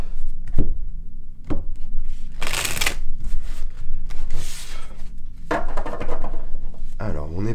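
Tarot cards shuffled by hand in several quick riffling bursts, crisp and close, with short pauses between and a voice speaking briefly near the end.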